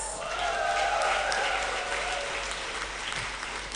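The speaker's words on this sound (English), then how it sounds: "let's give us a round of applause." A graduation crowd at a class of 2023 ceremony in Kigali claps loudly and continuously, the applause swelling early and then settling into a steady wash.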